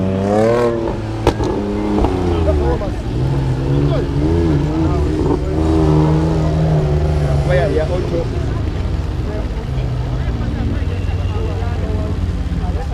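A BMW race car revs and roars along a track at a Kampala car festival, its engine note climbing and falling steadily over a loud announcer talking throughout.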